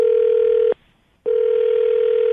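A telephone dial tone hums steadily while someone places a call, breaks off for about half a second, then resumes; the tone is loud, close and continuous, with no talking over it.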